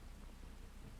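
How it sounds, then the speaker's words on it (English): Steady rain hisses in the Red Dead Redemption 2 open world, with a low, muffled thunder rumble under it. The whole wash is faint, constant and distant, and no one speaks. "There's rain on the wind."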